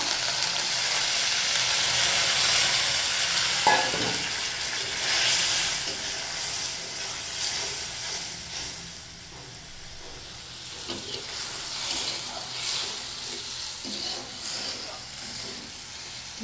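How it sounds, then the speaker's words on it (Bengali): Spice paste for a prawn curry sizzles and fries in a pan while being stirred, a steady loud hiss broken by occasional scraping and clinks of the spoon against the pan. "মশলাটা এখন ভালোভাবে কষিয়ে নেব"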